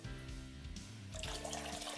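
Water is poured steadily into a mixer jar for rice flour dosa batter, making a continuous faint splashing gush that grows slightly brighter partway through.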